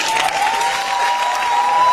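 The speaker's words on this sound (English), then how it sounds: "Y'all clapping right now." Steady applause from an audience at a lifetime achievement award ceremony, a dense, continuous wash of clapping with a few cheers, fairly loud and sustained throughout.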